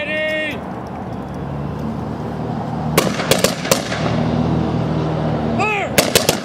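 Sharp rifle cracks from a Memorial Day firing squad ring out in quick, slightly ragged volleys outdoors, mixed with crowd murmur and passing traffic.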